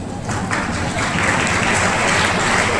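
An audience at the Golden Flower School Palika investiture ceremony gives continuous applause, a thick, even roar of many hands clapping that swells slightly and holds throughout.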